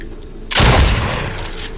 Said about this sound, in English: I just got a machine gun.